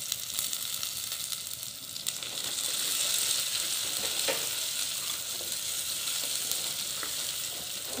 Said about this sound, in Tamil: நல்லா பொரியட்டும் கொஞ்சம் நேரம்